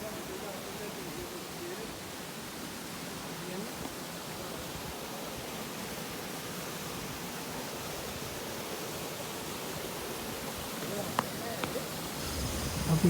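Steady broadband rush of Pahanthudawa Waterfall in Sri Lanka, running at low flow, a constant even roar throughout with a few faint knocks near the end and no talking.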